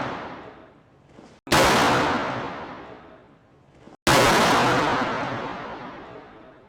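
Two sudden booming blasts from a car airbag deploying inside a room, each followed by a long, fading reverberant tail, with a faint crackle just before each bang.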